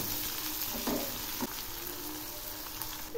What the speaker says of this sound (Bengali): এই পেঁয়াজগুলো খুব সুন্দর করে ভেজে নেব